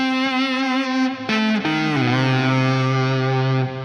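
An electric guitar played through the bridge pickup with the tone knob set to 3 gives a distorted, effects-laden sustained line with a few note bends and changes, loud and alone.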